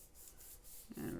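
Soft, close scratchy rubbing of a paper craft piece pressed over a metal die, a faint repeated brushing that swells into a louder, rougher scrape near the end.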